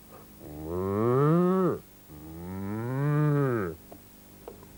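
A person imitates a cow with two long, drawn-out moos that bend upward and then fall away, loud and close, with a short breath between them.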